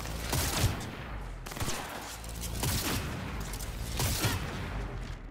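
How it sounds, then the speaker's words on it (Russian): Sniper rifle firing in the video game Cyberpunk 2077, three loud sharp cracks spaced about a second and a half apart, each trailing into a rumbling decay. "это снайперская винтовка"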